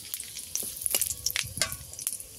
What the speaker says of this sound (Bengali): ফোড়নে দেবো গরম মশলা, 3টে দারুচিনি নিয়েছি, 3টে এলাচ আর 3টে লবঙ্গ দিয়ে দেব